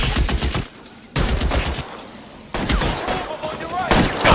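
Rapid volleys of gunfire in the 1940s crime video game L.A. Noire, several sharp bursts of shots in quick succession, close and loud, with brief lulls between them and shouted voices mixed in.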